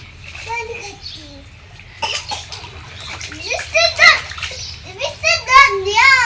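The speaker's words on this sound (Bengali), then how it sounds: "এটা বৃষ্টির জল, আমি তো ঝর্ণা বানিয়ে দিয়েছি। আর্টিফিশিয়াল ঝর্ণা।" Rainwater running from a homemade artificial fountain, splashing steadily under the excited chatter and squeals of young children playing nearby.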